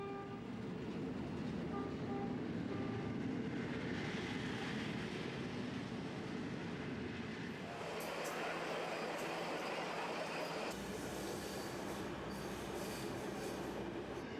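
A Bluebird railcar travelling through South Australia to the Barossa Valley rumbles along steadily, its wheels and carriage noise continuous, faint and somewhat distant, with a change in the running sound partway through.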